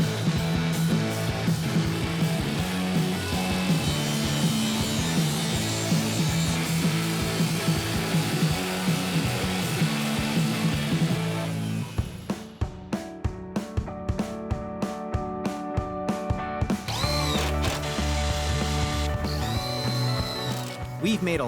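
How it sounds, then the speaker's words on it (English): A power saw cuts steel on a lakeside dock build, first as a loud steady whine, then as rapid clattering ticks and grinding bursts, with some talk alongside. "I get to crank up the saw and cut some steel."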